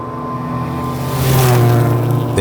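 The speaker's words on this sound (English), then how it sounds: "A heavy hit in the water splash chokes out the car." A rally car engine revs hard as it rushes through a water splash, a loud churning splash rising midway, then a brief clatter at the end.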